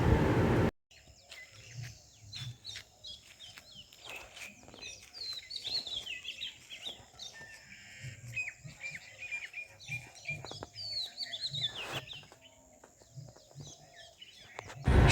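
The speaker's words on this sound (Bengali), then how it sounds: "পাখির আওয়াজ শুনছেন তো" Morning birdsong around Simultala, with varied chirps and trilling calls from several birds at moderate distance, a few louder close calls standing out over a quiet background and low thumps, with no talk.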